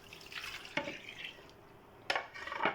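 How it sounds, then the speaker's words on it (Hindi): Water is poured into a cooking pot while making sahri kebab at home: soft splashing with a couple of sharper pours, fairly close and quiet, with no talk. "तो इसमें 2 ग्लास मैं पानी डाल रही हूँ"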